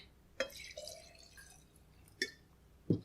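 A handful of sharp tap water drips fall at irregular intervals, close and clear against a quiet background.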